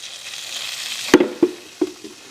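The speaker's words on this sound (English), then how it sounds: "I've got my oil in here. Now, I'm going to sprinkle a little bit of flour in here." Flour is sprinkled into hot oil for a gravy roux: a soft background sizzle, then a few sharp clinks and taps of a utensil against the pan, spaced unevenly, close and with no one talking.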